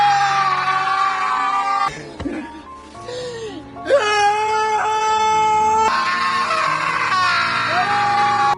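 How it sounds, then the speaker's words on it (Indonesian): People wail and scream loudly in long, emotional outbursts to release pent-up feelings, with voices rising and falling almost continuously and a brief dip in the middle. "Mereka pun teriak-teriak kayak orang gila sampai ngerasa plong."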